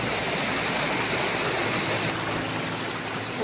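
Steady, dense rush of water flowing down a waterfall and stream at Mashenuloddi on a trekking trail, a loud continuous broadband roar that holds constant throughout with no voices.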